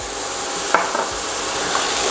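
Vegetables sautéing in a pan with black pepper and salt for oxtail, a loud continuous sizzle with a couple of brief stirring scrapes, close up and no voices.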